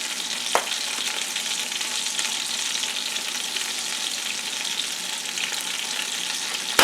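Creamy parmesan garlic chicken sauce sizzles steadily in a pan while it is stirred. The frying hiss stays close and even throughout, with a few faint scrapes and no talking.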